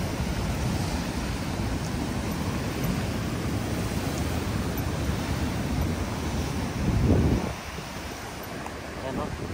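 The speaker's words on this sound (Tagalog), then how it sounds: "Yung hampas ng alon." Ocean waves crash and wash on a muddy shore, a continuous broad roar with wind buffeting the microphone and one louder surge near the end.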